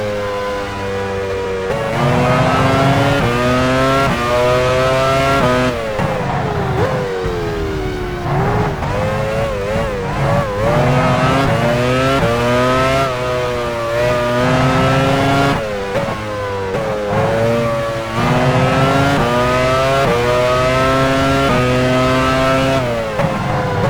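Formula One cars from the 2000 season scream around the Hungaroring in the racing game F1 Challenge 99-02, loud high-revving engines rising and falling through gear changes, with several cars passing close in near-continuous succession.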